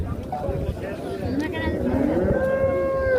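A one-year-old ox lowing at a livestock market in Oltinsoy, Surxondaryo, a single drawn-out moo close by, amid talk and market bustle.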